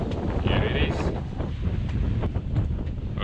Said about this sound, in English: this gust is hitting us